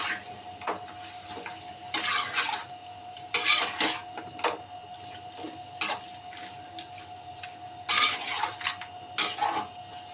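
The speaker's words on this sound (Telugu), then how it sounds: "కొంచెం పుదీనా, నేను మిక్స్ చేస్తాను." Mint being mixed into chicken curry in a pot, with intermittent scraping and clinking strokes of a spoon against metal in irregular bursts, close and moderately loud, over a steady background hum.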